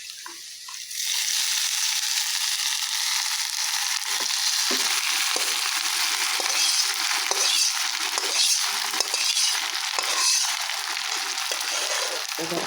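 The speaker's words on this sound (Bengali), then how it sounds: "এ পর্যায়ে আমি গোশগুলোকে এতে ঢেলে দিব।" Beef is tipped into hot oil in a pan and fries, setting off a loud, steady sizzle that takes over after a short quiet start, with stirring and scraping running underneath.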